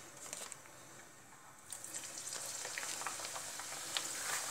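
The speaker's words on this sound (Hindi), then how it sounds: "आप देख सकते हैं तेल भी हमारा गर्म हो गया है। अब इसमें हम डालेंगे गुजिया को।" Gujiya, semolina-filled dumplings, frying in hot oil for Holi, a steady bright sizzle and crackle up close that grows busier and louder partway through, with no talking.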